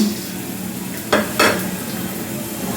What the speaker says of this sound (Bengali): এতে দিয়ে দেবো সাদা তেল, অল্প তেল দেবো, সঙ্গে দিয়ে দেবো পেঁয়াজ কুচি, লঙ্কা কুচি, বাদাম